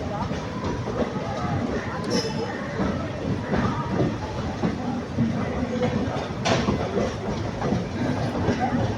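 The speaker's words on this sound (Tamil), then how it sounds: "பிளாட்ஃபாரம் ஒன்றில் வருதுங்க வண்டி" A train pulls into platform one at Tiruchirappalli Junction, rolling with a steady rumble and clickety-clack of wheels over rail joints, close and continuous, with faint squeals and knocks along the way.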